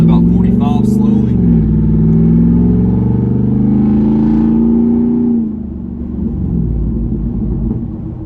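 A straight-piped Jeep Wrangler Rubicon 392 in drive pulls away slowly, its V8 exhaust rumbling deep and loud with a rising drone that eases off as it settles toward cruising speed.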